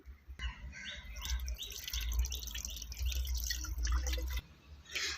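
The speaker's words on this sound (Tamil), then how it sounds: "இப்போ இதை வடிகட்டி எடுத்துடலாம்." Fermented homemade liquid plant fertilizer for rose plants is strained, and the liquid drips and trickles close by while birds chirp and tweet in the background outdoors.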